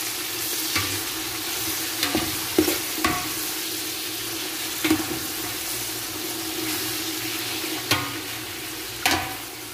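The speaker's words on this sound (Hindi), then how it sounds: "इसको तकरीबन 5 से 7 मिनट तक भूनेंगे" Tomatoes, green chilies and ginger-garlic frying in a pan with steady sizzling, and occasional scraping clicks of a spoon stirring; continuous, close and fairly loud, no talking.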